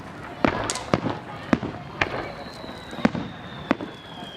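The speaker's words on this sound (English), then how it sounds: "7 party fireworks." Party fireworks at a local display, a string of sharp, loud bangs spaced roughly half a second apart, with a faint whistling tone drifting through and people talking quietly in the background.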